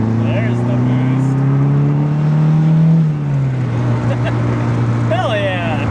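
A built Mazdaspeed3 turbo engine pulls under boost, a steady loud drone that climbs then drops with a shift, with a brief whistle near the end.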